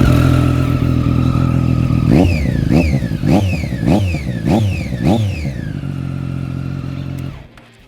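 Triumph Daytona 675R motorcycle with a factory accessory exhaust, revved hard several times in a row: sharp rising blips that fall back between each, over a steady idle that cuts off near the end.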